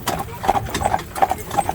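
A horse's hooves clip-clop in a steady trotting rhythm while pulling an Amish buggy in Lancaster, Pennsylvania, close and distinct, with a person talking over it.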